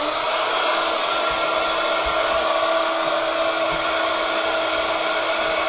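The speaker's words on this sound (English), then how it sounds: "Right, here we go with the heat gun." A heat gun blows steadily on a handmade flower card, a loud, even broadband whoosh that holds unchanged for the whole stretch without any pause or voice.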